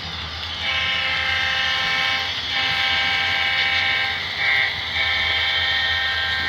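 A Santa Fe HO scale model freight train hums steadily with a sustained horn-like tone that swells and fades a couple of times, loud and close.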